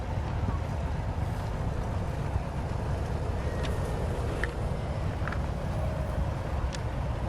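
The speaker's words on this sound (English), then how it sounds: "look at these tractors, some in John Deere green, some in red, many having flags on the back" Tractors, some John Deere green and some red with flags on the back, drive past in an outdoor homecoming parade: a steady low engine rumble with buffeting wind noise throughout, and faint voices in the background.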